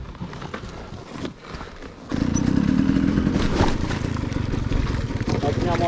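A motorcycle on a rough dirt trail, quiet and scraping at first, then a sudden loud engine surge that holds as a steady throaty drone, with clattering mixed in and people talking over it.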